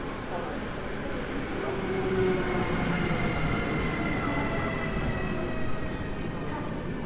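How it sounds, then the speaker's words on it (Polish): A freight train headed by a Vectron locomotive rumbles into Warszawa Zachodnia station at night, a steady low rolling roar with faint squeals, moderately distant and continuous. "Dojeżdża opóźniony skład BWE. Mamy Vectrona. EP Cargo."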